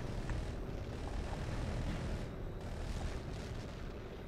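F-35 jet roaring in Tom Clancy's HAWX 2, a dense continuous engine rush with broad rumbling noise and no break, loud and close throughout.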